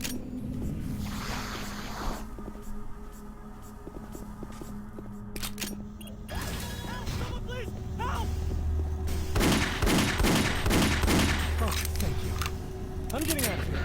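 Gunfire in Doom 3, rapid bursts of shots crackling through the second half over steady game ambience, with a person talking underneath.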